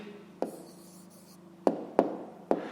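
Pen strokes on paper while a maths answer is written down, a faint continuous scratching broken by four sharp taps, close and quiet, with no talking.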